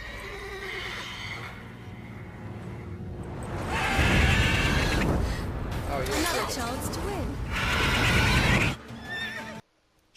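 A horse whinnies in The Witcher 3 amid game ambience, with a voice talking over it and loud layered sound through the middle before a sudden cutoff near the end.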